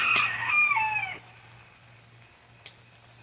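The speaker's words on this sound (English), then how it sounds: "And the roosters are all excited because it's raining. So they're making all kinds of noise today." A rooster crows once in the rain, loud and close, its call falling in pitch over about a second, followed by quiet with a low hum and a single click.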